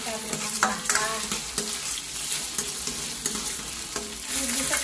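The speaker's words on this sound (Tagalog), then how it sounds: "Prituhin lang natin itong karne ng baka hanggang sa mag-golden brown." Beef pieces fry in a pan until golden brown, giving a loud, steady sizzle with repeated scraping stirs throughout and no talking.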